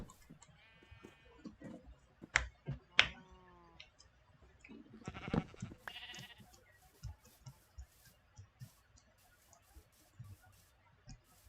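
Several sheep in a video game bleat in short, wavering calls scattered over a quiet outdoor ambience, with faint clicks in between.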